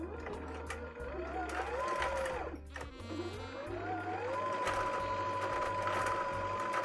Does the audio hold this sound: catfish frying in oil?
no